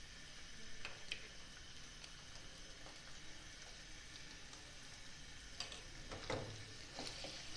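Kaleji, mutton liver, frying in a pan with a spoonful of ginger garlic paste: a continuous quiet sizzle broken by light stirring scrapes and a few metallic ticks, no speech.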